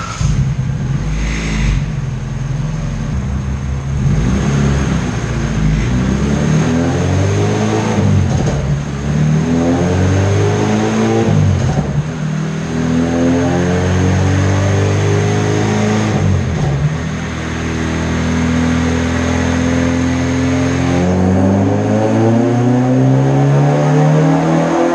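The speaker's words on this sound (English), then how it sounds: "put the camera outside the car this time so you guys can hear just how much this motor ripped" A naturally aspirated Honda LS-VTEC engine on E85, tuned on a dyno, revs hard and loud for a sustained pull, its pitch sweeping up and dropping back repeatedly in a continuous roaring wail heard from outside the car.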